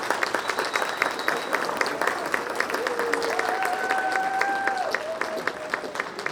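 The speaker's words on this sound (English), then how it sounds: "Can you please, can you kindly clap for them?" A crowd at a US Embassy in Zimbabwe alumni summit and awards event claps steadily and continuously, a dense patter of hands at moderate volume, with a faint tone sustained over it.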